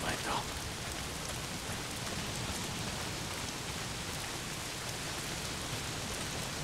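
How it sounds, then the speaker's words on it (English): Heavy rain pours down steadily in the Days Gone video game, a dense, even hiss that fills the whole stretch without a break. "Well, not if it's pissing down rain."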